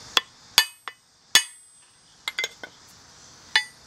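A chisel tapped lightly with a hammer splits rock to free trilobite fossils, giving sharp, ringing metallic clinks, one at a time or in small clusters, close and fairly loud in a quiet room.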